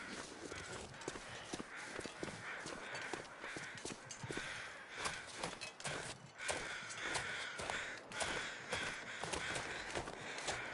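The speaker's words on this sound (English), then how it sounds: "Crows, if you hear crows in this game," Crows cawing in the survival game The Long Dark, harsh repeated caws scattered over a busy, faint background of scuffing and footstep-like thuds.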